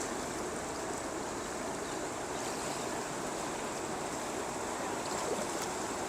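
The overflowing Malir River runs toward the sea below Malir Dam, a steady, broad rush of flowing water heard at a moderate distance that continues evenly with no voices.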